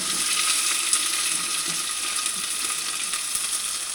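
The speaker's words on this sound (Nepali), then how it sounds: "अब प्याज एकछिन खरिनु दिने" Sliced onion fries in hot oil with a steady, bright crackling sizzle that stays close and even throughout, with faint scattered pops and no talking.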